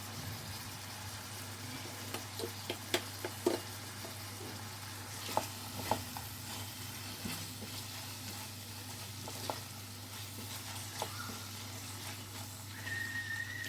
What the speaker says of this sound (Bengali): এখন আমি দিয়ে দিচ্ছি ধনে আর শুকনো লাল লঙ্কা